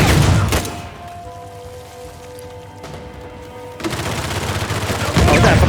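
Grenade launcher and heavy gunfire in Uncharted 4, loud blasts opening the clip, a quieter stretch, then dense sustained firing returning toward the end.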